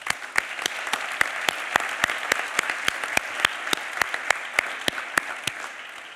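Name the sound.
audience applause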